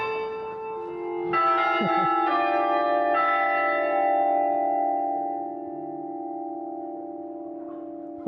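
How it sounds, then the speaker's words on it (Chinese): Church bells at Hallgrímskirkja in Reykjavík, Iceland, ringing loud and near from the tower top, sustained ringing tones with new strikes layering in before gradually settling, no talking over them. "就突然开始钟声就开始响起来了，好大声哦！"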